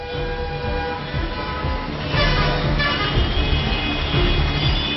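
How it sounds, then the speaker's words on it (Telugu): Busy road traffic in Anantapur, with vehicle engines rumbling in a steady stream and horns tooting now and then, a continuous dense street din with no voices. "అనంతపురంలో ట్రాఫిక్ తీరు ఇది"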